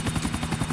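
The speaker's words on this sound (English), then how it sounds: "The Sprunk chopper has moved out of our way so we can get a clear shot of the beginning of the race" A video game helicopter, the Sprunk chopper, hovers near a race start; the rotor gives a loud, rapid rhythmic thumping that pulses evenly over a constant engine roar.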